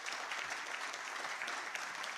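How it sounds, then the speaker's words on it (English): A large audience claps in sustained, dense applause at the launch of an initiative supporting vaccine production for Africa, a steady wash of many hands with no voices on top. "Another round of applause to that"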